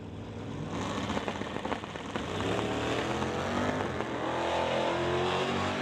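A Dodge Dart drag race car launches at an NHRA drag racing event, a loud, roaring engine that builds into a sustained rising rev as the car pulls away.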